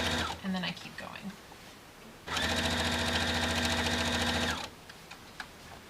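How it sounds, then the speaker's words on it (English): A sewing machine stitching quilt binding whirs steadily for about two seconds, loud and close, with a little quiet handling noise before and after the run. "I started sewing where I already had some stitches"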